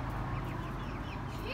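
Chickens cluck on a farm in a continuous, fairly loud flock chorus close by, with steady farmyard background noise throughout.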